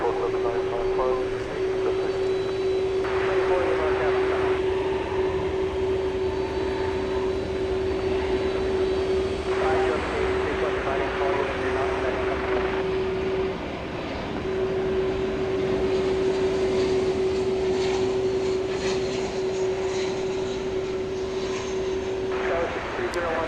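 A Volaris Airbus A321neo jet at DFW Airport at night roars steadily throughout, with a sustained engine whine holding across the whole span and a broad rumble underneath.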